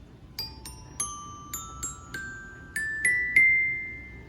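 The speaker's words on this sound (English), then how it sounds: "Next is the bells." Small bells mounted on a homemade ABS acoustic sound wall struck one by one with a mallet, about a dozen bright ringing tones in an irregular, slowly rising sequence, each sustaining under the next.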